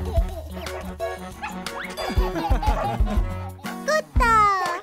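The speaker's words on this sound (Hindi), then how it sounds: "कुत्ता" A cartoon police dog barks in short, bouncy yaps inside a Hindi nursery-rhyme song, mixed with lively music and a child-like voice, ending in a high playful yip.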